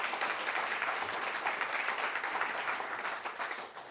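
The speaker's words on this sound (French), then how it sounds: "Merci beaucoup Luc Châtel, on peut l'applaudir très fort pour..." A conference audience applauds a speaker at a services industry event: steady, dense clapping fills the room throughout, fairly loud and unbroken with no talk over it.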